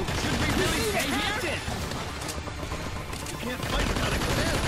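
Rapid weapon fire in Earth Defense Force 5 during split-screen co-op against giant ants, a loud, dense barrage of shots continuing throughout, with a player talking over it.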